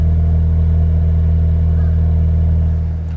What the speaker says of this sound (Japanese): ちょっと今エンジンつけたんで、音聞きに行きましょうか。